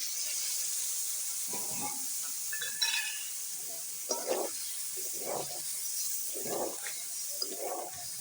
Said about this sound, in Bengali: আর একটু জল দিয়ে দিচ্ছি মশলাটা কষানোর জন্য